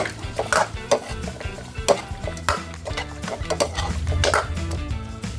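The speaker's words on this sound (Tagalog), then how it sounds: "Haluin natin ng konti." Chicken adobo with soy sauce being stirred in a pan, a steady run of spoon scrapes and clatter against the metal over a low simmer, close and fairly loud, with no talking.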